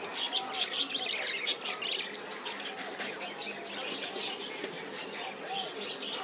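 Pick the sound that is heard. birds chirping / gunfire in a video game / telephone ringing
birds chirping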